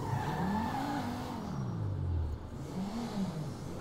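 Lampari Felon GT coupe engine in GTA V, a steady rumbling drone whose pitch climbs, dips and rises again as the car revs, fairly loud and alone.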